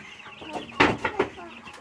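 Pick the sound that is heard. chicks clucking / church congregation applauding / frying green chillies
chicks clucking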